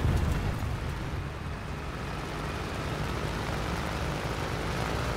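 A bomb falls in the War Thunder video game, a loud, continuous low rushing roar with engine-like rumble that dips briefly and swells again, with no talk over it.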